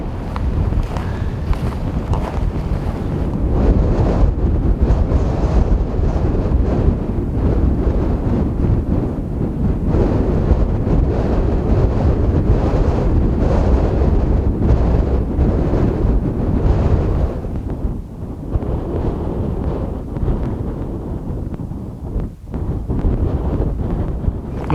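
Strong, steady wind buffets the microphone throughout while hiking through the Kaldoaivi wilderness in midsummer, a loud continuous roar with gusty swells and one brief lull, no voices.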